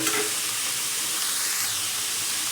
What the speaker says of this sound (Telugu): సొరకాయ ముక్కల్ని టమాటా ముక్కల్ని కూడా ఇలా మొత్తం ఒకసారి కలుపుకోవాలి